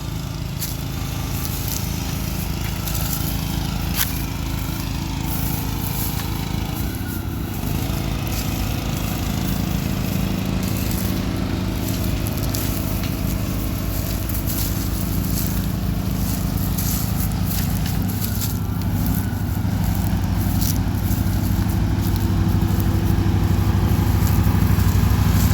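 Can-Am off-road vehicle engine running steadily outdoors in Florida, a continuous droning hum with a low rumble that holds level throughout, no speech over it.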